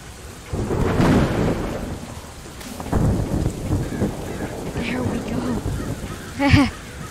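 Heavy rain hisses steadily with a deep rumble of thunder rolling underneath, plus a brief sharp sound near the end, in the video game Terraria with the Overhaul mod.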